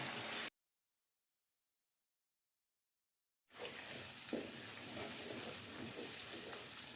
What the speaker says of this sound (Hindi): अंडे डालने के बाद आपने फ़ौरन इसको हिलाने लग जाना है।